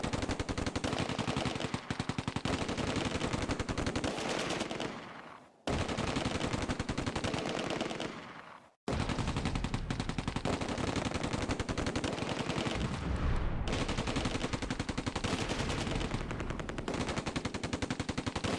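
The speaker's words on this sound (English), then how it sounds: "The Vickers and Schwerer's heavy machine guns go head to head, each trying to suppress the other." Vickers and German Schwerer heavy machine guns trade sustained, dense bursts of fire in a Close Combat WWII battle at Oosterbeek, loud and continuous with two brief gaps midway.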